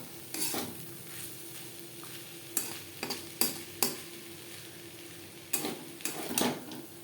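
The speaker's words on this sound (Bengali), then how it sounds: "এক 2 মিনিট নাড়াচাড়া করে নেব।" Bitter gourd (kakrol) with slit green chillies fried over a medium gas flame, stirred with a utensil: steady soft sizzle under a series of sharp scraping and clinking strokes against the pan.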